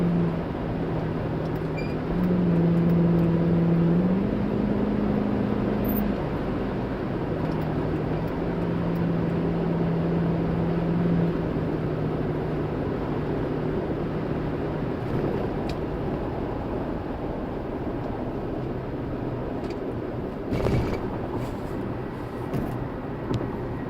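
Steady low car exhaust drone inside a moving car with the windows up, a continuous rumble with a brief rise in pitch early on and no talking.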